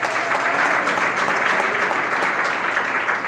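A church congregation claps together in praise of God, a dense, steady wash of applause filling the room at close range throughout.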